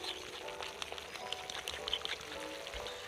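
Whisked sour yogurt poured into a cooking masala for a rajma curry, giving a short, close, wet splattering pour with a faint sizzle beneath.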